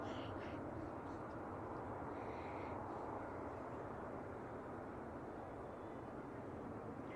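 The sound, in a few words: Qatar Airways Airbus A350-1000 arriving at San Francisco Airport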